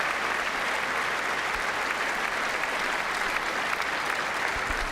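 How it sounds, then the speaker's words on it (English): Sustained applause from a State of the Union audience fills the hall, a dense, steady wash of many hands clapping at even loudness throughout, with no voices standing out. "They didn't even know when to start clapping"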